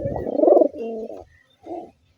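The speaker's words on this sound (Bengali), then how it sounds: "এই হচ্ছে আমার একটা পায়রা, ধরা পায়রা।" A captive pigeon, likely a male, coos in two phrases, a longer warbling call followed by a shorter one after a brief pause, close and clear with no speech.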